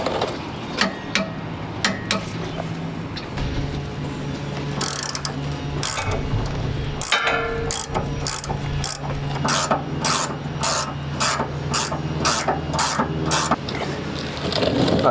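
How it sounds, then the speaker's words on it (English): A torque wrench ratchets repeatedly while tightening sway bar end link bolts on a Jeep Gladiator, sharp clicks in a steady rhythm that quicken toward the end over a low workshop hum. "get ready to torque those down"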